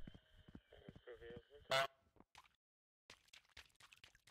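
A short, loud honk from the goose in Untitled Goose Game rings out midway, surrounded by a person talking before and after it.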